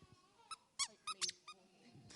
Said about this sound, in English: you're going to have to stand up and squeak this buzzer.